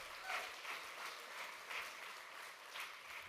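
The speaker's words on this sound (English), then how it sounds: "That's right, clap for him." Audience applause at a union political conference, a faint, distant patter of clapping that swells and eases in small waves over a few seconds.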